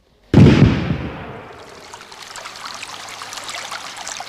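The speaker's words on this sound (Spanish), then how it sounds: "En medio de este túnel hay una fuente con agua" Water runs from a fountain inside a mountain tunnel, a sudden loud splash and rush that settles into a steady echoing trickle and stream, with no talking.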